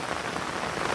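Steady rain falling over a riverbed in the Konkan monsoon, a dense continuous patter of drops spread evenly throughout, with no voices.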